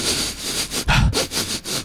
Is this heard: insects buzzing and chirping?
no